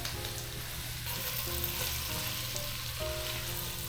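Tomato paste and sliced tomatoes stirred in a pot for a Cypriot white bean soup, a quiet steady sizzle with low, soft stirring and no voices.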